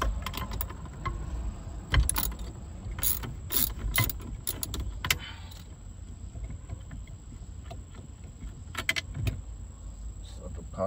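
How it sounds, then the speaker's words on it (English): Wrench or ratchet clicks and metallic clanks while removing the steering shaft nut on a 1986 Buick Regal Limited G-body, with scattered sharp bursts over a steady low background hum, close by. "We're gonna get that shaft nut off next."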